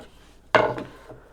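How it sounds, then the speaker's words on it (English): A hand edge-banding trimmer shaves excess wood banding flush with a board, making one brief, sharp scraping cut with a quick follow-up rasp, close and clear against a quiet workshop background. "use a trimmer to trim the excess off from the width"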